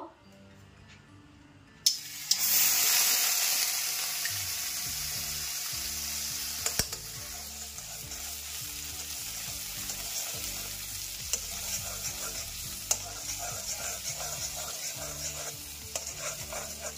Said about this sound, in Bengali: জাস্ট বাটারগুলো দিয়ে দেব।